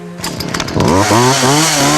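A chainsaw roars up to full speed and cuts an H into an apple held in a performer's mouth at a freak show, a loud, close, sustained engine whine with pitch dips as it bites in.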